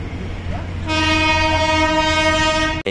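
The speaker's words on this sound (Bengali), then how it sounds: "ফাইনালি একটা টয় ট্রেন দেখলাম," A Darjeeling toy train passes with a loud, sustained horn that starts about a second in and holds steady over the rumble of the rail cars, ending abruptly.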